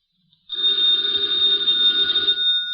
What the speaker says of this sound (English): the ringing of that phone bell means adventure.